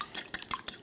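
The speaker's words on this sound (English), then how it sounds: "Whisk those together." A fork whisks three eggs in a bowl, making quick, light, wet clicking beats close up, about four or five rapid strokes in under a second, with no voice.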